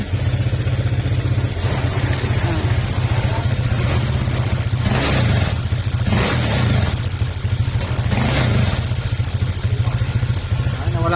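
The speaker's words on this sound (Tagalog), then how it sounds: "yung ingay ng makina" A Honda Click 150 scooter engine runs loud and steady throughout, a constant rumbling idle with a rough, clattering edge, close by, with knocking and misfiring.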